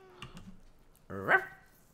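A dog in a medieval video game barks a couple of short yips, then one louder, drawn-out bark, all close and clear over near silence.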